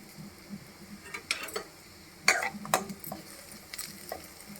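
Garlic softening in a pan on a home stove, a faint sizzle beneath a few sharp utensil scrapes and clinks against the pan, heard quietly and close.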